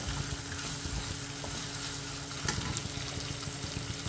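Spices and vegetables fry in oil for raw tomato gojju, a soft, continuous close sizzle with occasional light stirring scrapes and no voices.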